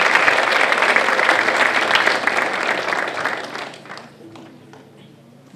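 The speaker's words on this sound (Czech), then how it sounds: "všichni potleskem připojujeme panu učiteli" Applause from the audience at an award ceremony for the best teachers of Otrokovice honours a teacher. The clapping is full and lively at first, then gradually dies away to near quiet.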